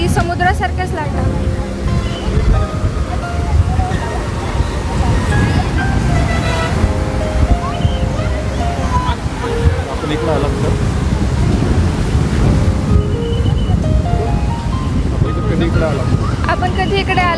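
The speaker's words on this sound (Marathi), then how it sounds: "बघा या लाटा कशा आहेत, अगदी समुद्रासारख्याच लाटा।" Waves washing across the broad Tungabhadra dam reservoir, Pampa Sagar, near Hospet in Karnataka, roll steadily with a broad surf-like wash, mixed with gusting wind on the microphone, while a person talks over them throughout.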